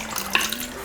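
A murky liquid mixture for Liège waffle dough pours steadily into a bowl, giving a continuous close splashing trickle with no voices.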